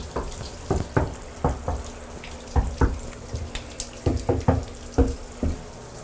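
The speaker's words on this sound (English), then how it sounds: "We'll typically add, if we have a drain stopper, 2-3 inches of water in there just to check we don't have a leak" Water from a bathtub tap spatters into the tub during a home inspection leak check, heard as uneven splashy bursts close by with no voices.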